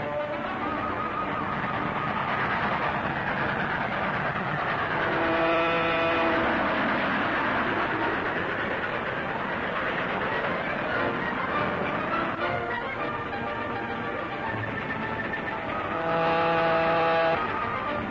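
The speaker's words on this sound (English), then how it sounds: "Follow the train." A train runs on rails with a loud, continuous rumble and grinding roar, joined by occasional tonal squeals from wheels and track.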